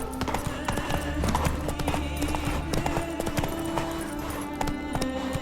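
Geralt's horse Roach trots in The Witcher 3: a quick, even clip-clop of hooves runs throughout, close and steady, over sustained in-game ambient tones.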